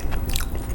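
A single quick crunchy bite into the crispy edge of sheet-pan lasagna, heard close and brief with a soft chewing crunch.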